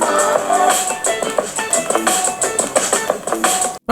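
Music plays through the built-in speakers of an MSI Katana 17 B13U laptop. It is loud and rhythmic, with a strong beat and steady mids, and cuts off abruptly at the end.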